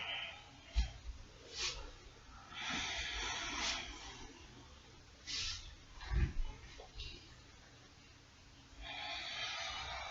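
Deep breaths during a yoga flow, with soft inhales and longer audible exhales rising and falling in slow cycles, close and fairly quiet.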